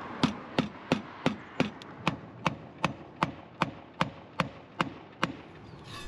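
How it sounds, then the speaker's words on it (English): Hammer blows drive nails into a mirrored trim piece on a wall, about fourteen sharp, evenly spaced strikes at a steady rhythm, close and fairly loud with little else around them. "I then bent up another piece that was at that 90 degree angle and nailed it onto the opposing side."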